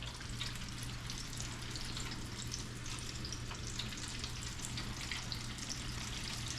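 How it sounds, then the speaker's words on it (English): Fresh speckled trout from Galveston Bay deep-fries in a fryer, a steady dense crackle and sizzle of bubbling oil held at an even level throughout, close and with no talk over it. "Fresh speckled trout out of Galveston Bay, straight to the fryer."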